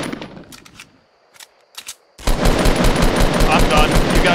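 Gunfire in a Fortnite Battle Royale squads match: a few sharp, spaced shots ring out over a quiet background, then a loud, dense barrage of rapid fire erupts and keeps pounding close by.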